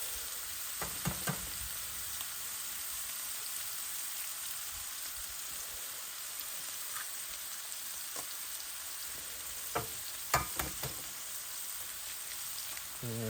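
Eggs frying in a potato hash in a pan on a camp stove during winter camping, a steady close sizzle with a few light scrapes and taps of a utensil.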